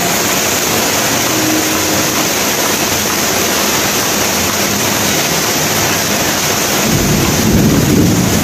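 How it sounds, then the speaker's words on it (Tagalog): Heavy rain pours down in a dense, loud, unbroken roar, with a deeper rumble swelling in near the end. "malakas ang ulan"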